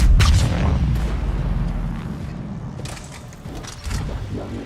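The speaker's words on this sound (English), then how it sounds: "Eat grenade!" A grenade blast in Mass Effect 3 Legendary Edition lands as a loud low boom up front, then fades into a rumbling tail with scattered mechanical clatter and further thumps from the game.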